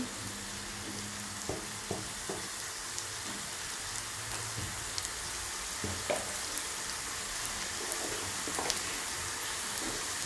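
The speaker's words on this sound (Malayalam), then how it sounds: "ഇനി ഇത് നന്നായിട്ടൊന്ന് പച്ചമണം മാറുന്നവരെ ഇളക്കിയെടുക്കാം." Prawn roast spices — chili powder, turmeric, pepper and garam masala — fry in hot oil with a steady broadband sizzle, while a spoon clinks and scrapes the pan in scattered stirring strokes throughout.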